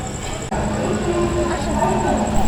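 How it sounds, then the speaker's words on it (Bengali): Steady rumble and rattle of the Kanchankanya Express running along the tracks near Bardhaman station, a continuous loud roar with a brief dip early on. "ট্রেন পৌঁছে গেছে বর্ধমান স্টেশন"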